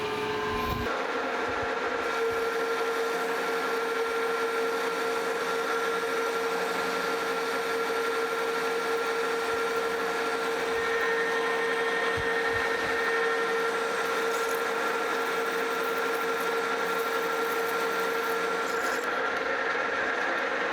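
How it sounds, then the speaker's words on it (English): A Monarch Model K lathe runs with a steady whine and mechanical hum as a parting tool cuts off a clutch bushing, a continuous cutting drone with no talking. "I got a parting tool in here"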